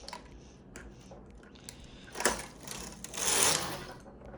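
Knitting machine carriage sliding across a row, a soft mechanical whirring sweep building to a brighter rush near the end, heard close and alone.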